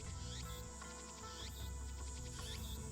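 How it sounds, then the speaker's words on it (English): Cicadas in the video game Steins;Gate keep up a faint, constant chirring drone. Repeating chirp phrases ride over a low, steady background hum. "Damn cicadas won't shut up."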